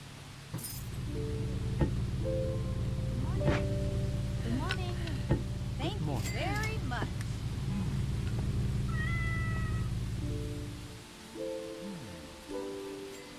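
Cat meows sound in the video game Pumping Simulator 2, several short rising and falling calls over a steady humming game background, fairly close and clear.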